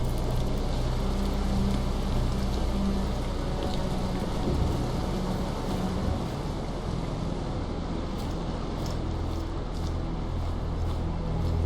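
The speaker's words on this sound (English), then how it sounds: "Rain's got to stop someday." Steady, loud rain falls in a video game, a dense continuous hiss with a low rumble running throughout, alone and unbroken.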